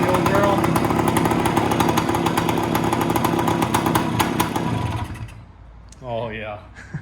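A 1970 Yamaha 175 Enduro two-stroke engine with a stuck throttle idles with a loud, buzzy, rapid popping close by, then is shut off near the five-second mark, leaving brief talk afterward.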